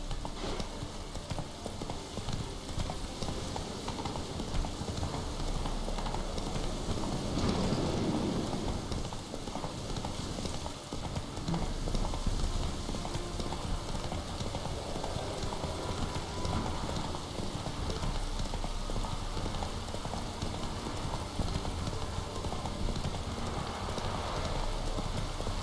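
Roach the horse in The Witcher 3 trotting with steady hoof clip-clop, carried under a continuous wash of rain-like ambient noise that stays loud and even throughout.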